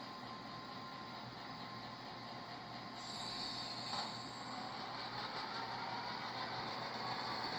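An old Bachmann F7 EMD model locomotive with a newly installed motor runs steadily along the track, giving a continuous soft whir and rail rumble. It is fairly faint, with no talk over it.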